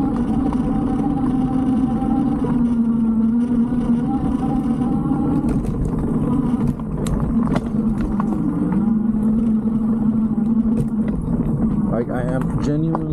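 A 1000W retro-style electric bike climbs a hill on throttle alone, giving a steady motor whine with wind noise underneath, loud and continuous throughout as a rider talks over it.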